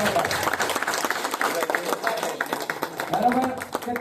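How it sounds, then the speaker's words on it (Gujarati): An audience claps steadily, a dense patter of many hands at a moderate distance, with voices talking over it. "અડધી મિનિટ, 1 મિનિટ જોરદાર અવાજ આવે એવી તાળી પાડો, અવાજ આવે એવી જોરથી"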